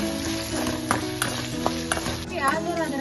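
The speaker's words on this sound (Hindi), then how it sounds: "अदरक लहसुन की पेस्ट को हम अच्छी तरह से प्याज में मिक्स करके उसे भी ब्राउन करेंगे।" Ginger garlic paste being stirred into onions browning in a hot pan for a gavar (cluster bean) vegetable bhaji, with steady sizzling and frying and soft scraping of stirring throughout, near and continuous.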